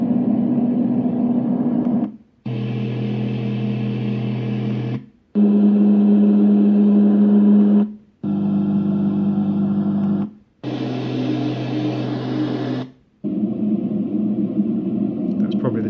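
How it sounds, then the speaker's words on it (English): A series of steady, droning mechanical hums from a Dreamegg D3 portable white noise machine's fan sounds, each running a couple of seconds with brief silences between. "So we can go on to the white noise, or the fan sounds rather."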